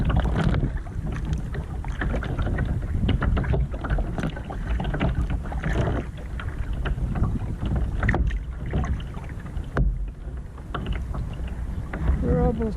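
Steady wind buffets the microphone while kayaking, a continuous rushing roar with paddle and boat noises and occasional talk over it.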